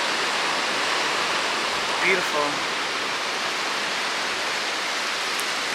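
Broad, steady wash of ocean water on a sunny beach, a constant roar like surf heard from nearby, with a brief spoken word midway.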